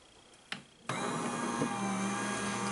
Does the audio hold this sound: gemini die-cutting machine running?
yes